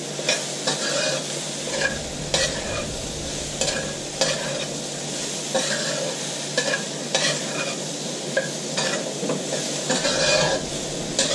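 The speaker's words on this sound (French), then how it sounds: "je vais remuer de nouveau mes légumes pour mélanger bien les épices que je viens de mettre" Seasonal vegetables with coriander seeds and spices sizzling in a pan while being stirred, a constant loud fry hiss broken by repeated scraping and clicking utensil strokes, with no voices.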